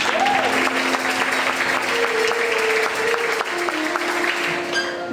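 Church congregation at an evangelical service applauding steadily throughout, a dense sustained wash of clapping with a faint voice or tone underneath.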